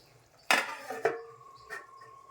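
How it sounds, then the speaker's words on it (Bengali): A metal lid is set on a cooking pot of simmering potato and egg bora curry, giving a sharp clank followed by a couple of lighter ringing knocks as it settles, close and otherwise quiet. "জল দিয়ে দিচ্ছি, সেদ্ধ হয়ে আসবে, একটু ঝোলটা শুকিয়ে যাবে, তখন বড়াগুলি দিব। ঢেকে দিচ্ছি"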